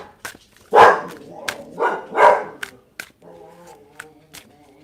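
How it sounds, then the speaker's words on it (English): A neighbour's dog barking, several loud close barks in quick succession, then quieter yips and whines at the end. "Who's barking? Oh, our neighbor's dog."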